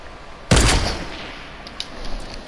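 A single loud sniper shot in Fortnite that cracks sharply and then rolls off into a fading echo, with no talking.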